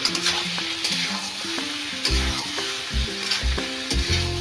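Cauliflower and potato pieces are stirred and fried with spices in a pan, giving a steady sizzle with repeated scraping strokes from the stirring, under soft background music.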